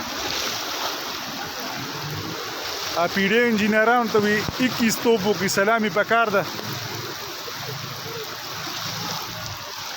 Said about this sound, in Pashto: وګوره باران روان دی او بس دومره اوبه دي